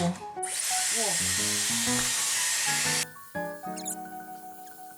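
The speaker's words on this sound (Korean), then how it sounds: "다이슨 드라이기가 있어요. 그래서 한번 써보려고" A Dyson hair dryer starts and blows with a loud steady rushing whoosh for a few seconds, then cuts out while a voice talks over it.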